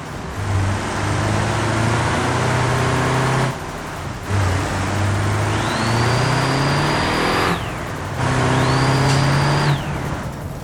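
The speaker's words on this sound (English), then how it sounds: "engine sounds really nice though" A truck engine in the BeamNG driving game revs hard and steadily, with two rising shift-like whines and brief dips where the throttle drops, loud and close with no talking.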